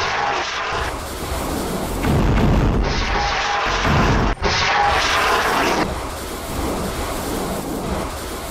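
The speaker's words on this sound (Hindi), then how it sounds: "इस हमले को लेकर सोशल मीडिया पर एक वीडियो भी वायरल हुआ है, जिसमें एक मिसाइल मार्गालियोट कृषि कम्युनिटी की चिकन कूप पर गिरती हुई दिख रही है।" An anti-tank guided missile strikes a chicken coop in the Margaliot farming community in Israel, giving sustained loud, rumbling blasts with a sharp crack midway, then a continuing roar that fades toward the end.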